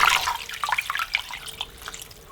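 Water pours and splashes into a cooking pot for bear meat, a short, quiet gurgling trickle that fades out over a couple of seconds.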